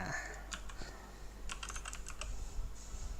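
A license key typed on a computer keyboard, heard as faint, close bursts of quick keystrokes with short pauses between clusters.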